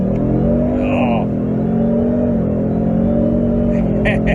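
A Whipple supercharged 2018 Ford Mustang GT accelerates hard, its engine note rising in a loud, sustained roar with supercharger whine, heard from inside the car as occupants talk and exclaim over it.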